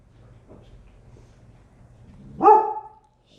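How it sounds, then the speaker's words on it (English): A single dog lets out one bark near the end, fairly close, after a stretch of quiet low rumble; no talking over it. "Dog."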